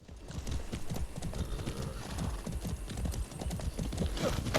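Horse hooves gallop in Far Cry 6 with a steady, loud, close clip-clop rhythm that runs the whole time, with a brief whinny near the end and no talking.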